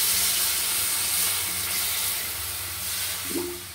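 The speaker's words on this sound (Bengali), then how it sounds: "এবার আমি একটু জল ঢেলে দেবো" Water poured into a pan of frying mixed vegetables and chana dal sets off a loud, steady steaming hiss and sizzle, close and continuous, with a brief clink near the end and no speech.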